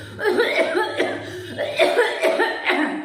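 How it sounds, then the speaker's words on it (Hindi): Repeated bursts of coughing, loud and close, tied to thick phlegm stuck in the throat from a long-standing cough, coming in several harsh rough spasms across the stretch with short gaps between them. "और निकालो तो बहुत ज्यादा खांसी आती"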